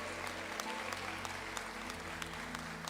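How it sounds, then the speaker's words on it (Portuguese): A church congregation applauds at an evening worship service, sustained dense clapping from many hands at a moderate distance, with a low organ-like hum sustained underneath. "Você pode aplaudir Jesus e dizer glória a Deus"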